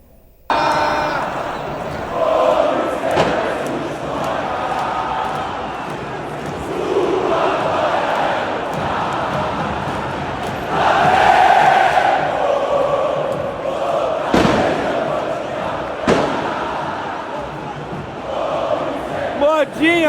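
Flamengo fans chant and roar at Maracanã stadium during a match, a loud, dense crowd sound sustained throughout with swells and a few sharp peaks.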